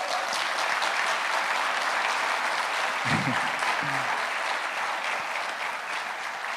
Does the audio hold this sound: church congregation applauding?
yes